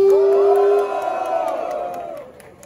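A large crowd at a rap battle semifinal cheers and yells together, one loud sustained shout riding over the roar before it gradually fades.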